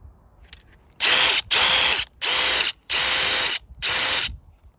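A DeWALT DCF850 compact impact driver runs at speed 3 in five loud, close bursts of roughly half a second to a second each, separated by short pauses, with no talking.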